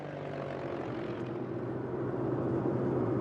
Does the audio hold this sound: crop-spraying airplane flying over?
yes